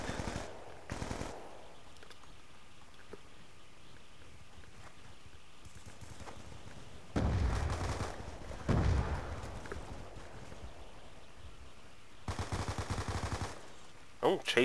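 Rapid automatic gunfire in the shooter game Black Ops 2 comes in several loud bursts over a steady background din, with a couple of deeper heavy blasts in between.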